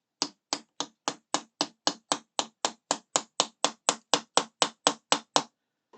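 A hammer whacks a block set against a panel of a Star Trek Enterprise NCC-1701-D model, about twenty sharp, evenly spaced knocks in a steady rhythm, close and crisp with nothing else heard.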